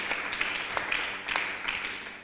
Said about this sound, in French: Vos applaudissements lorsqu'il entre au plateau.